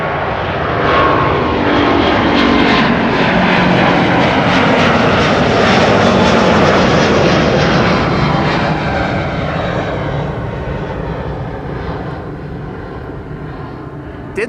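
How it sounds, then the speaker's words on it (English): A China Southern Airlines airliner departing Schiphol's Kaagbaan runway 24, a loud, steady broadband jet roar that swells to a peak midway and then slowly fades as the aircraft climbs away, with no talk. "Last airplane of today's show, China Southern Airlines on its way to Guangzhou in China."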